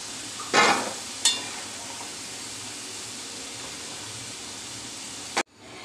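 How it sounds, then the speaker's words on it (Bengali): French fries fry in hot oil with a continuous, even sizzle, broken by two brief louder bursts early on, before cutting off abruptly near the end. "এইটা আমার ফ্রেঞ্চ ফ্রাইগুলো ভাজা হয়ে গেছে।"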